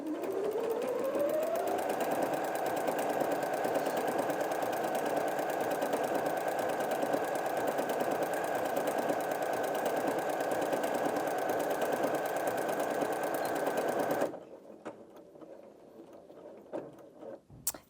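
A Janome M50 QDC sewing machine runs a decorative stitch, number 44, in a steady, continuous mechanical whir with a rising start, then stops abruptly, leaving faint handling clicks and rustles.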